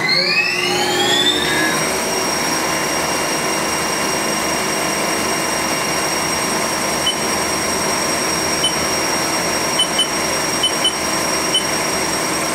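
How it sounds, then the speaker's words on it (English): A Haas TL3-W CNC lathe spindle spins up at 1500 RPM, rising in pitch over the first seconds and then settling into a steady, loud mechanical whine with high tonal overtones, running alone without speech. "we'll go ahead and fire up the spindle right now. I'm going to start off at 1500 RPMs"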